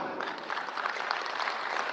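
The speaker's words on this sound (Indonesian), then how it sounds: "Kita tepuk tangan" An audience claps steadily at the opening ceremony of a village facilitators' service day in North Sulawesi, a dense, even patter of many hands at moderate level, with no talk over it.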